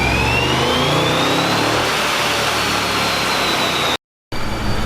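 A Procharged Hemi V8 on a dyno baseline tuning pull roars loud and steady, a rising supercharger whine climbing over the engine before it abruptly cuts off and then returns.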